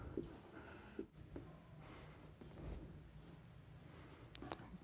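Marker or chalk writing on a board during a biology lecture on DNA replication, a quiet scratchy scrawl of short strokes heard alone with faint breathing and no speech.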